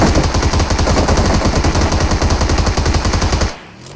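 Rapid automatic gunfire in a mobile shooter game, a loud unbroken stream of shots lasting about three and a half seconds, then cutting off abruptly.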